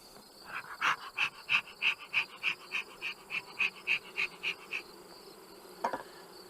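Honey bees buzz during a transfer of brood frames into a nuc hive, a rhythmic run of about a dozen regular pulsing buzzes, fairly close, then quiet with a faint final burst.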